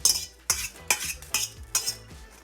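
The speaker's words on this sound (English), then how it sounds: "I'm going to stir all this up. And toss your noodles in the sauce." A utensil stirs and tosses spaghetti noodles in sauce in a pan over medium-high heat, five sharp, evenly spaced scrapes and clinks close up, each followed by a soft wet slide.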